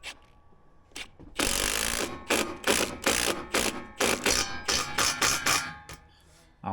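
A screw is driven into a new railing with a power drill, heard as a loud, ratcheting whir in several bursts separated by short pauses, close up with no talking.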